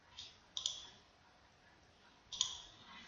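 Two sharp, close computer mouse clicks, each a quick double tick, about two seconds apart in a quiet room.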